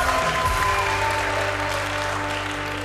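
A studio audience at a comedy game show breaks into steady, sustained clapping, with a faint tonal musical hum running underneath the whole applause.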